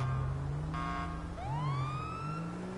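A video game police car siren wails with rising and falling electronic tones over a steady low engine drone, close and fairly loud.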